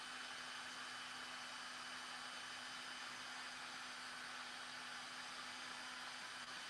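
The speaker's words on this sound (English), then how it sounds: "you guys know I got to keep the dryer on for a minute" A hair dryer blows steadily and continuously at close range while heat-shaping a large serving tray, a constant broadband whoosh with a low motor hum and no talking.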